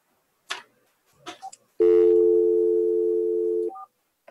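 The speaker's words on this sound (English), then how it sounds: "I heard a dial tone there." A steady telephone dial tone holds for about two seconds, loud and unbroken, after a few brief clicks and faint noises, ending with a short tone blip.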